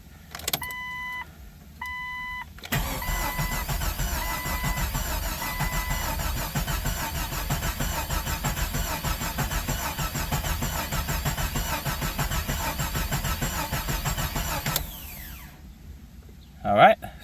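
A Jeep XJ's freshly installed engine is cranked with the fuel line disconnected: a few dashboard chimes, then a sustained starter whir and churn of about twelve seconds that stops without the engine catching.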